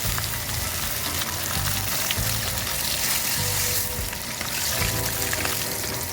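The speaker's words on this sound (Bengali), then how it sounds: "আমার মাছগুলো ভালোভাবে ভাজা হয়ে আসছে, লাল লাল হয়ে গেছে" Katla fish frying in hot oil gives a continuous, dense crackling sizzle with small pops, close and steady throughout, with no talking.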